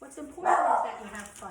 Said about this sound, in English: He's barking at whoever's coming to the door.